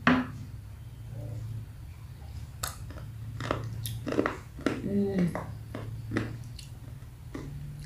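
Crispy fried chicken kremes topping from Mi Sedaap-style instant noodles crunched in close bites, a series of sharp irregular crackles over a low background hum.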